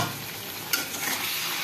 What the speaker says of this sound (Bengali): রক্ত ভাজা